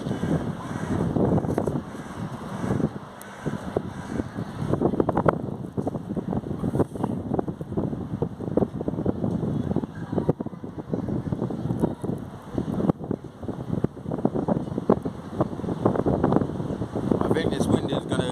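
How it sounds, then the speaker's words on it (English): Strong outdoor wind buffeting the microphone near a beach, a continuous rough low roar with gusty swells throughout, no voice heard. "I think this wind is going to continue."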